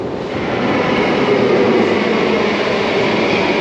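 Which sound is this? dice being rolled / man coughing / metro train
metro train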